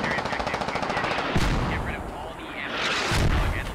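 Heavy artillery and mortar fire in the military shooter Squad: sharp booming blasts land near 1.4 and 3.1 seconds over a steady rattle of distant gunfire, with faint radio chatter mixed underneath.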